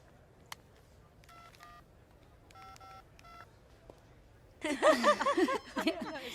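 Telephone keypad tones beep in two short bursts of several dialed digits, clear against a quiet room, then a person starts talking close by.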